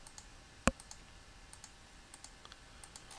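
A single sharp computer mouse right-click while working in a design tool, close and crisp, standing alone against faint background noise with a few softer ticks afterward.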